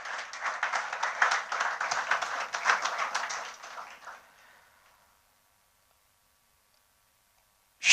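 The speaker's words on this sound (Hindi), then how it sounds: "आप सबसे आग्रह करूंगा कि ज़ोरदार तालियों से श्री लाहौटी जी का स्वागत किया जाए।" An award ceremony audience applauds with dense, lively clapping for about four seconds, then it fades out into near silence.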